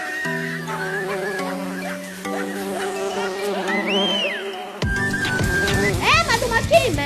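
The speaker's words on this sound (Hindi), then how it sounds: "मधुमक्खी, मैं नहीं छोड़ूंगा।" Honeybee buzzing in a desi comedy skit, a droning insect hum with tonal layers and swoops, fairly loud and close, later mixed with busier sound effects and voices.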